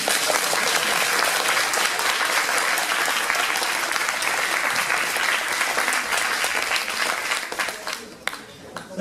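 A crowd applauds steadily and loudly at a cosplay parade at a convention in Dijon, the clapping fading slightly near the end.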